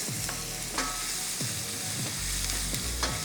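Onion and tomato browning in a pan give a steady loud sizzle, with a few stirring scrapes of a utensil across the pan.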